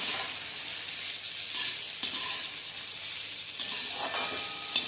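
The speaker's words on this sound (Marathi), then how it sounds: "फ्लॉवर, फ्रोझन मटार, हे सगळं छान मिक्स करून घ्यायचंय." Cauliflower and frozen peas tossed in a pan for veg pulao, with a soft steady sizzle and a few scraping stirs and a spatula knock, fairly quiet and close, with no voices.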